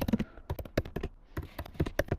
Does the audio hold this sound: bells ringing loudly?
no